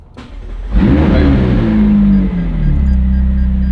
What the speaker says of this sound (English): you have to push and hold the start button until it starts